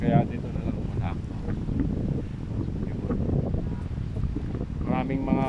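Wind blows across an outdoor park at King Abdullah Park in Riyadh's Malaz District, giving a steady, rumbling buffet of wind noise on the microphone for the whole stretch, with faint voices near the start and end.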